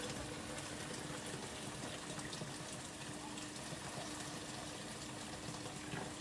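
Boiled water pours from a measure into a pot of potato and pea curry, giving a steady, continuous watery rush at low level without pause.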